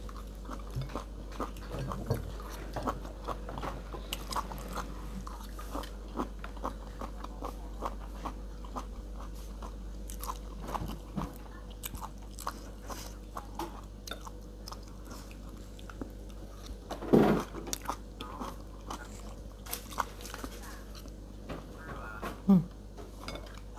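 Spicy papaya salad and stir-fried vegetables are eaten close up, with soft chewing and biting, scattered clinks of cutlery on dishes and a couple of louder knocks over a low steady background hum.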